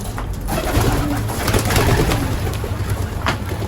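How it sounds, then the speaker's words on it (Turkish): Close, steady cooing of a flock of released pigeons amid a dense noisy outdoor background, continuous throughout without speech. "bak güvercinler de gelmeye başladı zaten arkadaşlar"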